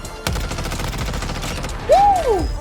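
Rapid gunfire from a shooting game played on a mobile phone: a dense, steady burst of shots runs throughout, with a brief sweeping electronic tone near the end.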